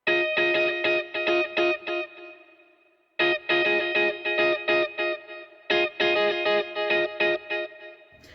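Strummed 80s pop chord riff on an electric guitar with chorus and distortion, played in tight rhythmic bursts of repeated chord stabs in three phrases, loud and close with no talking.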